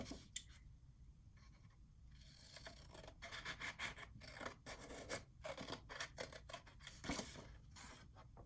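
Scissors cut through paper for a small handmade album, giving quiet, close rasping snips in a loose rhythm, faint against a soft room background.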